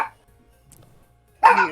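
A dog barks twice, close and loud, with a short yip at the start and a fuller bark after a quiet pause.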